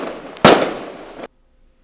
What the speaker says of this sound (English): So cue the fireworks